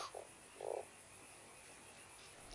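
A toad in the video game Fran Bow gives two short croaks, the second longer and buzzier, faint against a quiet background.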